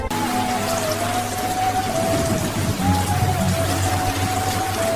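Steady rain falls in an even, continuous hiss, close and fairly loud throughout, with a low steady drone underneath and no voices.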